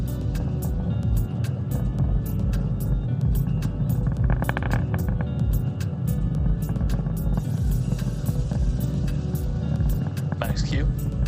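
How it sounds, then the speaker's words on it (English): Rocket engines throttle down during a Starlink launch ascent ahead of Max Q, a steady, dense low roar that runs throughout, with broadcast commentary voices speaking over it. "Now we are throttling down the engines in preparation for Max Q."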